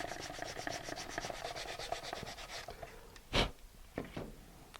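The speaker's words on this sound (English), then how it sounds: "So this is kind of a fine sandpaper. I'll just sand it down until the top of the tab is even there." Fine sandpaper rubs back and forth on a small tail fin tab for a model rocket, a quiet, soft, rhythmic scratching heard close, ending in a few louder brushing strokes.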